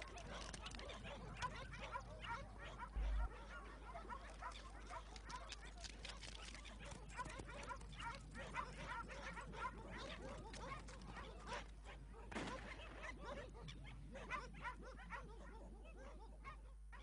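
Hunting dogs bark intermittently while on a puma's trail, with yips and whimpers scattered through a busy outdoor scene; speech is mixed in.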